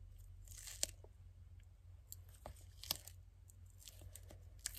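A blade slices tape around a tyre in short, faint crackling cuts, a few sharp ticks and crinkles spread over a quiet background, close by and with no speech.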